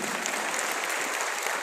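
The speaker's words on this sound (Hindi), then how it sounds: "एक बार जोरदार तालियां हो सकती है सच में" An audience at a gathering in Delhi claps in a brief, steady burst of applause, dense and fairly soft, heard on its own.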